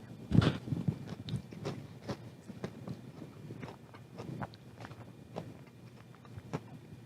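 Crunchy smoked Brussels sprouts with bacon being bitten and chewed up close, a sharp crunch at the start followed by a series of softer, irregular chewing crunches, faint and without talk.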